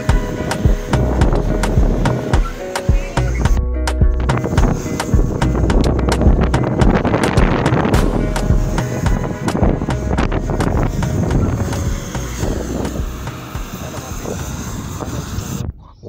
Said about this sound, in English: The wind is so blowing.